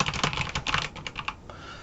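Typing on a computer keyboard while writing a title in a Google Docs document: a quick run of close, crisp key clicks in an uneven rhythm that slows and softens near the end.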